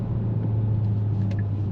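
A 2025 Hyundai Santa Fe Hybrid engine pulls under acceleration in sport mode, a steady low droning rumble heard from inside the cabin for under two seconds, no voices.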